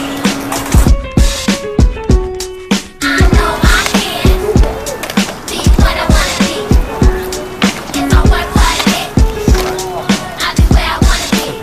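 Casterboards roll and clatter around La Habra Skatepark. A continuous loud rumble of wheels on concrete is broken by repeated sharp knocks and clacks of boards hitting the ground and coping, with music and faint voices in the background.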